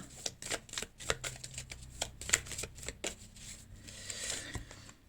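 Tarot cards shuffled by hand, a rapid series of crisp riffling flicks and taps, close and fairly quiet, with no talking.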